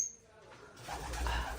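A pigeon gives a short, soft coo near a nest where a healthy, fluffy newly hatched squab is being raised by two hen pigeons; the call is brief and fairly faint.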